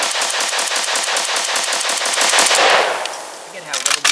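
Rapid full-auto bursts from an SA RPK-style 5.56 rifle, a loud steady stream of sharp shots for nearly three seconds, then a brief pause and a few trailing pops at the end.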